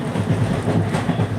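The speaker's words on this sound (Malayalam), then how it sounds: "ഞാൻ ഇപ്പോൾ ഒരു യാത്രയിലാണ് ട്രെയിനിൻ്റെ സൗണ്ട് കേൾക്കാമോ എന്ന് പറയണേ" A train rolling along the tracks with a steady, close rumble and a faint rhythmic clatter of wheels running continuously.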